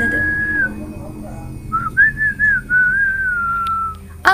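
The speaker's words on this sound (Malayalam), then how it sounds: "ചൂളം കുത്തിക്കൊണ്ടാണ് നടന്നത്." A person walking along a deserted road whistles a steady, clear tune up close, holding a long note and then a run of short phrases, with no talk over it.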